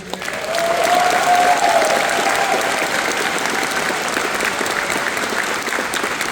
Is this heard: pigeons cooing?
no